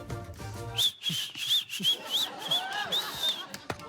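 A run of short, bright whistled notes, each a quick rising-and-falling chirp, repeated in an even melodic pattern, close and clear.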